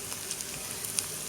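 Onions browning in hot oil in a pan where okra is also being fried give off a faint, steady sizzle with small crackles and pops, and no voices.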